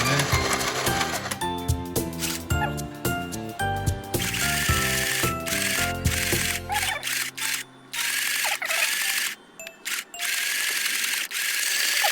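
A toy sewing machine stitches a shirt with a loud, steady mechanical whirr and rapid clattering needle beat, running almost continuously and cutting out in a few short pauses near the end.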